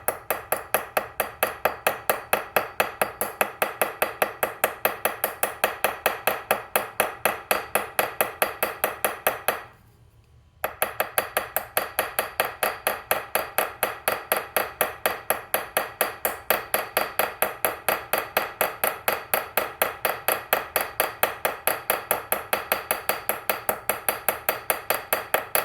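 A ball peen hammer taps the pins of a knife handle in a fast, steady, evenly spaced series of sharp metallic strikes, close and unbroken except for one brief pause partway through.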